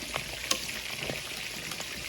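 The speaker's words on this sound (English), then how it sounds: "I'm gonna let this finish frying." Steady, soft sizzling of catfish frying in hot oil in a pan, with occasional pops and crackles, no voices.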